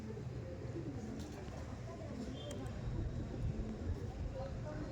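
Andhra Kalshira pigeons coo softly in a low, continuous murmur, the birds close at hand amid background noise at a pigeon seller's loft.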